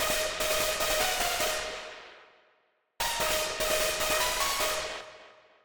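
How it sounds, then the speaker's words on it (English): Hard techno synth patch run through a vocoder in noise setting, a dense distorted buzzing chord with a steady tone, played as two long phrases that each fade out, loud and alone. "But if you add the vocoder in, it sounds like this."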